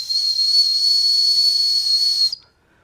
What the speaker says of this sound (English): I could do without the survival whistle.